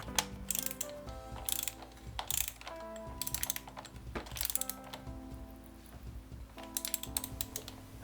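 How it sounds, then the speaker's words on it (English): A torque wrench with a 27mm socket ratchets in quick bursts of clicks while tightening the front sprocket nut on a KLR motorcycle, close and distinct, with short pauses and metallic clinks between strokes. "using your torque wrench with your 27mm on there"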